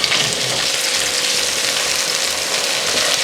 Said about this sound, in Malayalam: നമ്മുടെ സാൽമണിൻ്റെ എല്ലാ വശവും നമുക്ക് ഇങ്ങനെ തിരിച്ചും മറിച്ചും ഇട്ട് കുക്ക് ചെയ്തെടുക്കാം